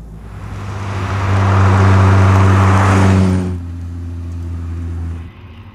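Ferrari 328 GTS Targa-top sports car engine, a steady loud low drone with strong harmonics that swells over the first few seconds, then drops to a lower, quieter hum before cutting off near the end.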